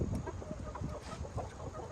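Several farm hens cluck close by in a continuous busy chatter of short overlapping calls, with no talk over them.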